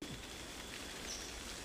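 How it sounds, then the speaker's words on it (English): Monkeys urinating from trees in a Colombian jungle at night, a dense, steady patter like rain falling onto leaves and the ground all around, continuous and fairly loud with no talking. "Oh, they're peeing like crazy. Look at this. It's like raining."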